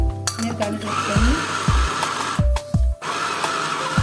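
A kitchen blender whirs loudly in short bursts blending tomatoes and vegetables, stopping and starting several times, with thumps and clinks between pulses.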